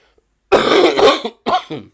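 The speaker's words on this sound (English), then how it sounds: "I'm so sorry about the cough" A loud, close cough in a heavy burst, then a second shorter hack a moment later, with no talking.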